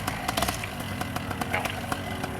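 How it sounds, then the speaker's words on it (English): A paramotor engine on a powered paraglider, buzzing steadily with a rough, rattling two-stroke drone throughout a short throttle burst, loud and close with no speech. "One more quick spurt of that throttle."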